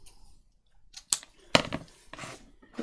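Scissors snip through paper for a junk journal in a few short, crisp cuts close by, separated by quiet pauses.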